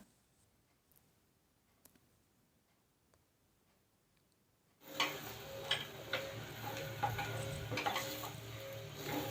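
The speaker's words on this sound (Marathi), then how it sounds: "तीन ते चार मिनिट हे छान असंच परतून घ्यायचं आहे आपल्याला" Grated coconut is stir-roasted in a pan. After a near-silent start, a soft sizzle begins, with scraping and ticking spatula strokes repeating close by.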